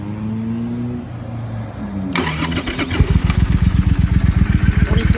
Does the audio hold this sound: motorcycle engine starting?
yes